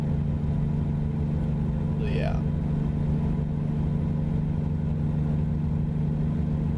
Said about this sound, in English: also I like the sound of the truck